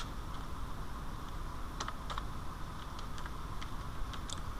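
Someone types the word 'lightshot' on a computer keyboard, a handful of light, quick key clicks over a steady background hum.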